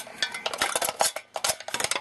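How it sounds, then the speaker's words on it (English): A knife blade saws through an aluminium beer can to cut it in half, giving a close run of scraping, crinkling metallic crunches and taps in quick irregular bursts with a brief pause midway. "So to dull it down, I'll cut a beer can in half"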